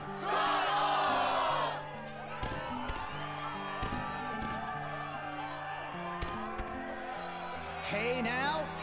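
A crowd cheers and shouts in the Kingdom Hearts 2 video game. The cheering is loudest at the start and rises again near the end, over steady game music and sound effects throughout.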